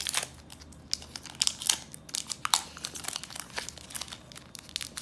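Pokémon card booster pack wrappers being torn open and handled, a Dragapult VMAX shiny collection box: close, crisp crinkling and tearing foil plastic in rapid irregular bursts, no talking.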